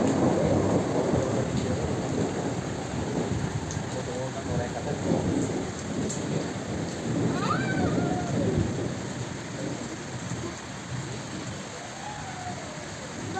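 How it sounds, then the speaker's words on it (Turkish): Heavy rain pours down over a village in a dense, steady roar, with low rumbling underneath and a few faint bird calls in the distance. "Şarıl şarıl bir yağmurun sesi."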